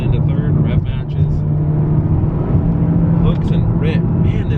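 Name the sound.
Honda Civic Type R engine, downshift to third with rev matching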